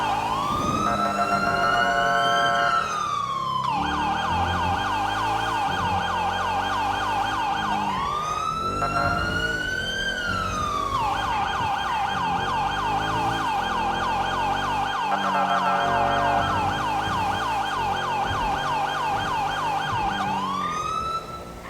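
A loud police siren in a GTA roleplay game wails continuously, cycling between rising-and-falling sweeps and a steady two-tone pattern, close and dominant with engine rumble underneath.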